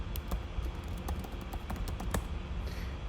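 Terminal commands are typed on a computer keyboard in a quick, steady run of crisp close-up key clicks, with no talking.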